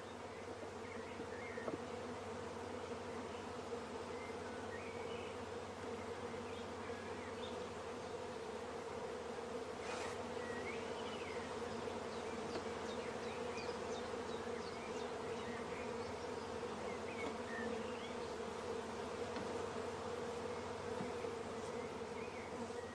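A dense, continuous hum of many honey bees buzzing close by among hive frames, steady and droning throughout with occasional louder passes.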